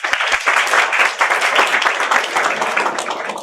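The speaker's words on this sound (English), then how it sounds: "Please put your hands together and welcome Ms. Papia Banerjee with a huge round of applause." An audience at an introduction program claps to welcome a speaker, with loud, close, fairly dense applause sustained throughout the short stretch.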